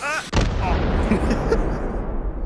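Remote missile launcher hip-fired in the VR game H3VR: a single sudden loud launch blast after a brief quiet moment, then a sustained rushing roar that slowly fades, with a voice speaking before the shot.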